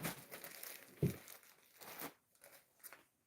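A plastic bag crinkles and rustles up close in uneven bursts, with one sharper crunch partway through, then the handling trails off into quieter intermittent rustles.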